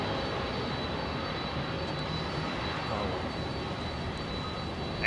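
A UPS MD-11 freighter's jet engines at a runway entry point, a continuous loud, broadband roar with a steady whine, heard nearby.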